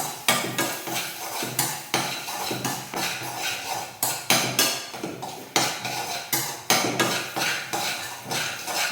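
Dried red chillies and asafoetida roasting in a pan, a spatula scraping and clanking against the metal in a fast, steady rhythm for the whole stretch, close and fairly loud.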